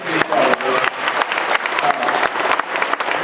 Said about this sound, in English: Let's give our special guest a round of applause before I get started